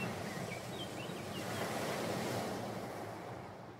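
Ocean waves beneath a cliffside in the video game Far from Noise: a steady, broad wash of surf swelling and slowly receding, with a faint wind-like hiss and a few soft high chirps, no voices.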